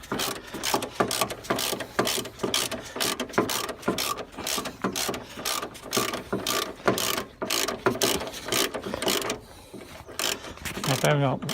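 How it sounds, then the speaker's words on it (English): A ratchet clicks in quick, steady runs while undoing long bolts on a Renault Master van's front suspension strut. The mechanical ticking is close and continuous, with a brief pause near the end. "They're long bolts, you think they're never going to come out when you start taking them out, just keep twisting."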